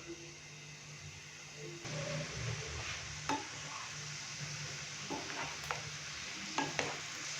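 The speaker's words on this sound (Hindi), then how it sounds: "मीडियम से लो फ्लेम पे हमने इसको फ्राई करना है" Pasta pieces deep-frying in oil over a medium-low flame, a steady low sizzle with soft stirring and scattered clinks, growing a little busier partway through; no voices.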